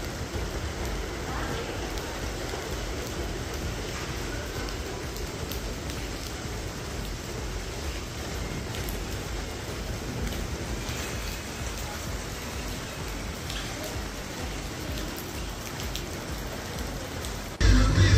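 Steady, heavy rain pours down continuously near the sea at Dahanu beach, a dense close hiss that never lets up.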